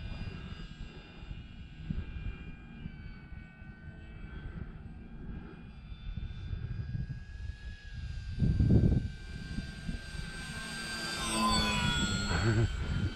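An Arrows RC Bigfoot model airplane passes overhead outdoors, its high engine whine climbing and shifting in pitch as it approaches and sweeps by, moderately loud over light wind.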